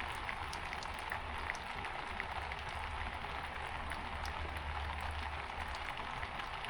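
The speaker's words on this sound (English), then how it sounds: "No lightning, just the light rain." Light rain falls steadily outdoors at a hotel, a soft continuous hiss of drops with a low rumble underneath and no lightning or thunder, holding even throughout with no talking.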